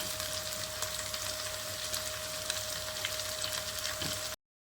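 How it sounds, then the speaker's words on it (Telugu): Drumstick leaves and coriander fry in a pan with spice paste, giving a steady, moderately loud sizzle with light crackles and stirring throughout, then cutting off abruptly near the end. "పచ్చి వాసన పోయేంత వరకు బాగా వేయించుకోవాలి కొత్తిమీర వేస్తున్నాను ఒక కప్పు మునగాకు"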